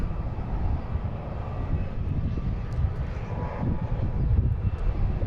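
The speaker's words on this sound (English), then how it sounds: "We have American E-175 taking off." An American E-175 jet takes off at Boston Logan International Airport on a gusty afternoon, its engine roar a steady, fairly loud rumble that swells slightly toward the end.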